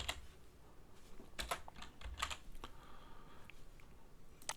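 Typing on a computer keyboard to enter deployment comments, sparse close key taps in short irregular bursts with pauses between, quiet and without speech.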